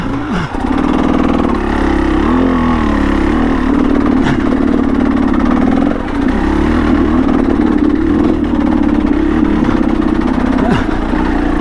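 Motorcycle engine droning steadily in a low gear while riding a Barmouth byway in sunshine, loud and close with small rises and dips in pitch as the throttle shifts, running alone throughout.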